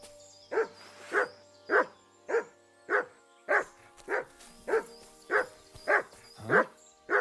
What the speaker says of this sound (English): No one wants to hear you barking.